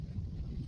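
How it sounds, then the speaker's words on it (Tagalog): Strong wind gusts over a backyard and garage area, a low continuous rumble buffeting the microphone throughout, fairly quiet overall with no clear speech. "kalakas ng hangin"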